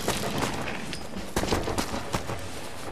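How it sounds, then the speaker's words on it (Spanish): Bridge explosives blowing up in the video game Sniper Elite V2, a dense, loud rumbling blast with several sharp bursts and thuds rolling through the three seconds, no voices. "va a gustar esta explosión, chavales."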